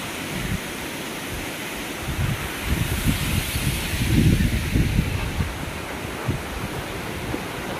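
A waterfall with forceful, milky-white rushing water gives a steady broadband roar, mixed with gusting wind that swells in the middle and fades again.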